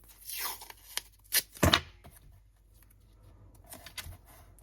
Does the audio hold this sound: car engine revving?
no